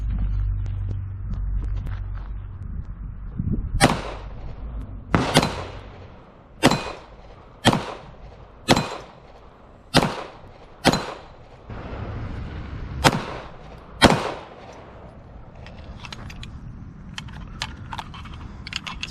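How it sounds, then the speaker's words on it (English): A SIG P320 X5 Legion 9mm pistol firing Federal 115-grain range ammo at a 6-inch steel plate from 15 yards, about ten sharp reports in a quick, uneven string, each with a faint ring of hit steel. "We're going to be shooting Federal Range target ammo, 115 grain."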